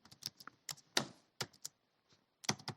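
Computer keys clack in short, irregular bursts at close range, a few crisp taps at a time with brief pauses between, and no voices.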